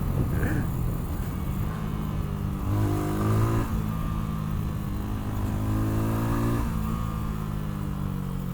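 A Mash 250 Black 7 motorcycle engine hums steadily while riding, with pitch rising and falling through gear changes under constant wind rush, and the rider talks over it.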